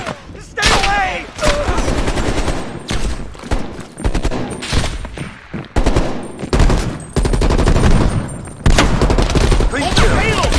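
Loud enemy gunfire in the video game Call of Duty Black Ops Cold War, with repeated machine-gun bursts and heavy shots arriving in waves, broken by brief pauses, close and intense.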